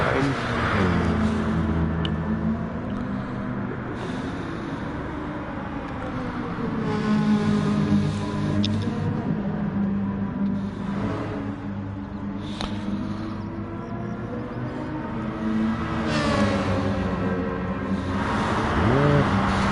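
DTM race cars on the Interlagos circuit in a racing game, engines droning and revving as cars pass and overtake, with a commentator talking over the steady engine noise.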